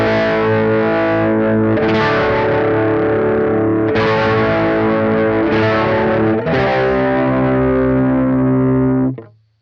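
Electric guitar played through a Vox MV50 amp head with the treble booster switched off, heard via headphones: loud, sustained distorted chords ringing continuously with fresh strums every couple of seconds, then cutting off abruptly at the end.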